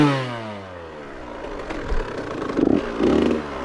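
A KTM TC65 dirt bike ridden on a hard enduro trail at Murphy's Creek revs up and down in short bursts, a close, rising and falling engine note with rattling and scraping underneath.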